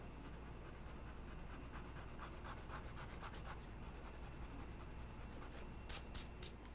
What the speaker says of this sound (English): you can take an eraser and clean up those lines.